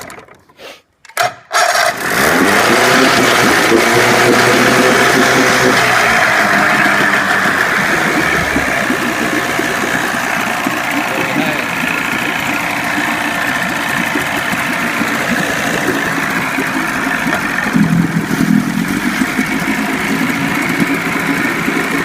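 A 25 hp Johnson tiller-steer outboard motor on a Fisher 1448 jon boat, unused for weeks, cranks briefly by electric start, then fires and runs loud and steady, a close rough idle that holds to the end.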